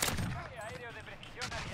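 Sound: gunfire in the video game Warzone

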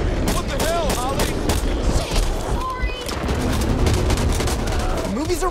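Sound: gunfire in Back 4 Blood video game

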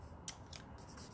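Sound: scissors cutting metallic paper in half

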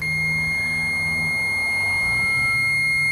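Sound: multimeter continuity beep

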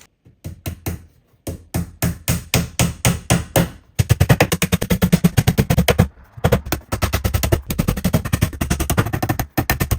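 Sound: hammering nails into a cabinet's back panels

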